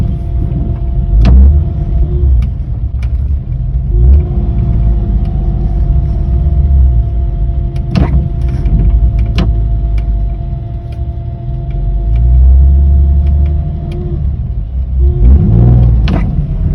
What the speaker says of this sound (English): even while driving, it makes this weird exhaling noise